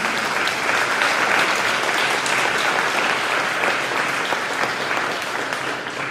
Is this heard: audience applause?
yes